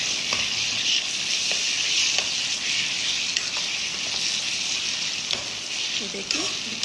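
Garlic chicken sizzles steadily in desi ghee in a pan while a spoon stirs it, adding scattered scraping clicks over the close, continuous frying hiss.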